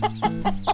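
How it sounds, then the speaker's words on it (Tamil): Country chicken chicks in a cartoon cluck in four quick, evenly spaced calls, close and clear with no talking. "இது நாட்டுக்கோழி குஞ்சாச்சே."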